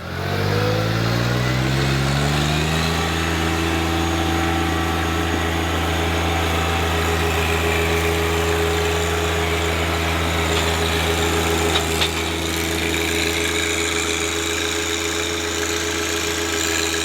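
A John Deere compact tractor engine spins up at the start and then holds a steady, loud, droning run while the tractor drives in a circle, close by and with no talk.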